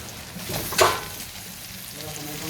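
Garlic and onion fry in a pan, a steady low sizzle with a brief burst of crackle as something is stirred or added.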